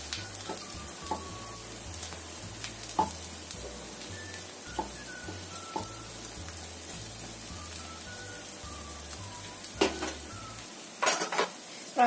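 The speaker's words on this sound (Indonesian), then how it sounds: "Pokoknya bolak-balik aja kira-kira sampai bayamnya ini matang" Spinach stir-fried in a pan with a spatula or utensil scraping and clinking against the metal in a steady, repetitive rhythm, with a faint sizzle underneath. Close and fairly quiet, with a few sharper knocks near the end.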